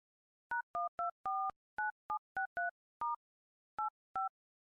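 A dial tone gives way to a quick run of about a dozen two-tone keypad beeps, mostly evenly spaced with a short pause near the end, clear and close on a mobile phone with no voices over it.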